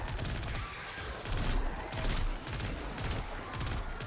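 SMG gunfire in the video game Destiny 2, rapid dense bursts of shots in a continuous rattling volley, fairly near and muffled.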